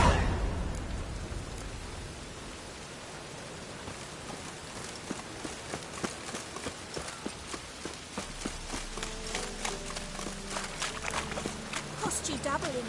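Rain falls steadily in The Witcher 3: Wild Hunt, a constant hiss under a growing run of rhythmic footsteps or hoofbeats, while characters talk over it.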